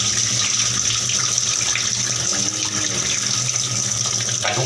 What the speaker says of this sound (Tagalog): Hugasan natin yung bugas.